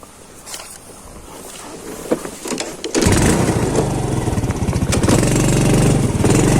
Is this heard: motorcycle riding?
yes